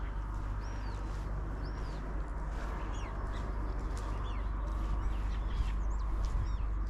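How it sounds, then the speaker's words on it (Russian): Birds sing outdoors in scattered, faint chirps and short whistles over a steady low rumble, with no talking. "Ну, птички можно послушать."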